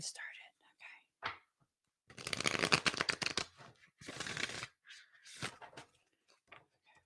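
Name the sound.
tarot cards being shuffled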